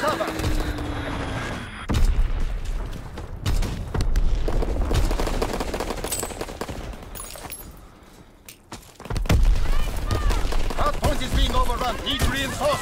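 Enemy bomb strike and heavy gunfire in Call of Duty WW2 multiplayer at Pointe du Hoc, with loud bursts of automatic fire and booming blasts rolling over almost thirteen seconds, briefly dipping before a fresh barrage, under faint game voice callouts.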